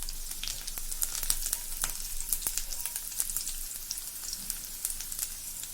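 Garlic fries in hot oil in a kadai, a soft, continuous sizzle dotted with sharp crackling pops throughout, heard alone and fairly quiet.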